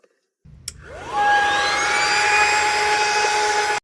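An air compressor blowing air through a small nozzle starts with a click, then rises into a loud, sustained whistling hiss with a clear high tone that holds steady to the end.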